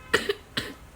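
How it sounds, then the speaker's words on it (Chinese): A feverish child with a sore throat coughs twice in quick succession, then once more, close and fairly soft in a quiet room. "今天一整天都在咳嗽呢"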